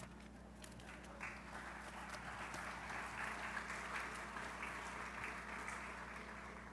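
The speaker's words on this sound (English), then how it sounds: "Now you can clap." Audience applause after a tribute at a Hawaiian memorial gathering, a steady wash of clapping from a crowd that holds at an even level for several seconds, moderately distant, with no speech over it.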